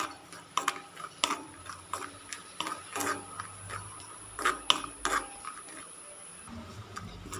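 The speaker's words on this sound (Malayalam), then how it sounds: "കശുവണ്ടി പരിപ്പ് നന്നായിട്ട് വറുത്തെടുക്കാം." Cashew nuts being roasted in a pan, giving scattered clicks and taps of nuts and a utensil against the pan, fairly quiet and irregular, with a faint background hum.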